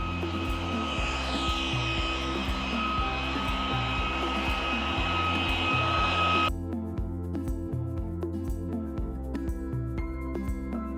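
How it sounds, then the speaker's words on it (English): A leaf blower clearing leaves in a yard, a steady loud droning whine running the whole time, with the high airy rush cutting off partway as the engine keeps humming. "he is blowing leaves right now"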